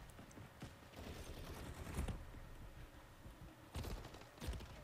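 Swarm killstreak drones striking in Modern Warfare 3, heard as rapid bursts of crackling, gunfire-like impacts that pile into a continuous barrage with louder clusters, moderately close.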